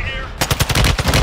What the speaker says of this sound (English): There was one shooting at me right here.